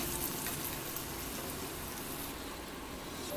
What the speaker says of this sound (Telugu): కరివేపాకు ఇవన్నీ వేసి చక్కగా ఫ్రై చేసుకున్నాం ఫ్రై అయిన తర్వాత కొంచెం పసుపు వేసుకున్నాం ఈ పోపులోనే